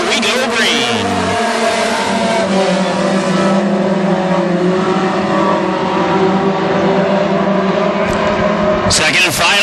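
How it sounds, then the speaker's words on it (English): WISSOTA Mod Four race cars at Ogilvie Raceway's Harvest Cup roar together as the field takes the green flag, a loud, sustained pack of engines with one car passing close, under a track announcer's talk. "Second and final heat race in the Mod 4s taking the green flag as we are underway and racing"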